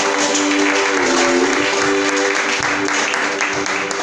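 A church congregation applauding loudly and steadily for several seconds, a dense wash of clapping with voices sustaining a tone underneath.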